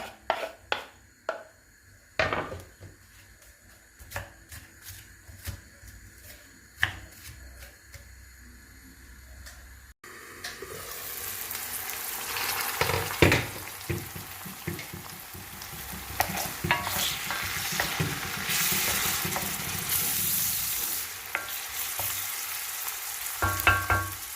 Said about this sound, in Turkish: Soğanlarım biraz kavruldu gördüğünüz gibi.